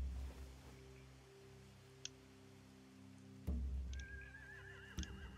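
A horse whinnies twice in The Walking Dead video game, short shrill neighs rising over a steady low ambient drone with occasional thumps.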